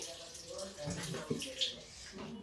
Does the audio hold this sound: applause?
no